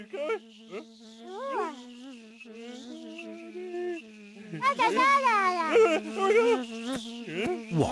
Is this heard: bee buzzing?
yes